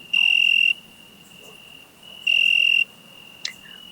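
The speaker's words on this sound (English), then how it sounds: "Have you ever listened to a cricket?" A cricket chirps in two bright, shrill trilled bursts about two seconds apart, each lasting roughly half a second, clear and close over a quiet background with a faint steady tone between them.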